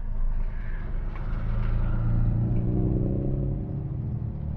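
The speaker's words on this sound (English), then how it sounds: "we'll just let the six-cylinder come past because it's going to lead the way" A six-cylinder Leyland Marina drives past with a steady low engine rumble that swells in the middle and eases off. It stays loud and close throughout, with no talk.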